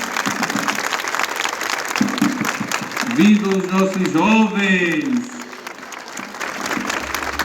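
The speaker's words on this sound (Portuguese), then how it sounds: "A eles eu peço uma salva de palmas." A crowd breaks into loud, sustained applause for the young people at a Passion of Christ gathering in Água Branca, Paraíba, with someone shouting a cheer over the clapping.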